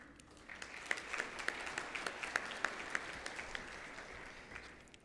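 Audience at a health and education policy results presentation welcoming a family planning official, with a sustained, fairly distant crowd applause that swells in and holds steady, a few sharper claps standing out, then slowly eases.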